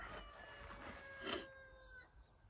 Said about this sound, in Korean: 새소리랑 한번 들어보세요. 이곳의 소리를.